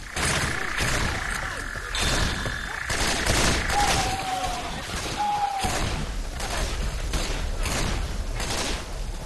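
Gunfire in the video game Left 4 Dead: loud, repeated shots and bursts of weapon fire with thuds, continuing across the whole stretch.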